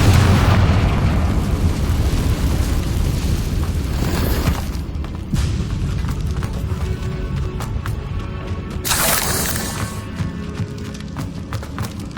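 A Confringo fire spell erupts in Hogwarts Legacy with a loud, booming blast, followed by rumbling debris and a second bright crackling burst later, all at close range.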